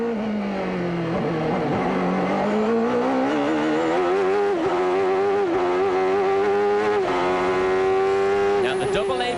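Onboard a Rahal-Hogan CART race car at Portland in 1993, the engine pulls hard at full throttle in the same gear, its loud, rising note wavering through the corner with a brief lift, and faint tire squeal.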